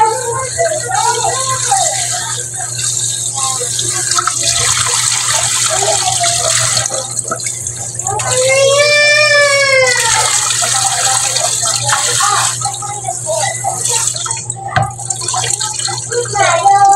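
Tap water runs steadily as tilapia is rinsed in a kitchen sink, a continuous splashing gush with occasional clatter, while someone talks over it.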